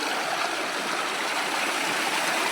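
Water gushes steadily from a farm pump into a field channel, a close, constant rushing flow with no breaks and no voices.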